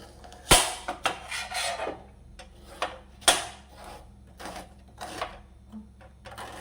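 Knife chopping onion finely on a cutting board while making bread upma, sharp isolated thuds at an irregular pace, close and clear, with quieter taps between the louder cuts.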